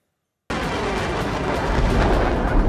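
Heavy rumbling blasts from a missile strike on a city during the Russia-Ukraine war, beginning abruptly after a moment of silence and rolling on continuously, loud and booming like close thunder, with no talk over it.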